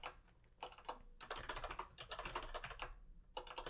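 Rapid typing on a computer keyboard, close and quiet, with bursts of clicking keystrokes separated by brief pauses, and no voice.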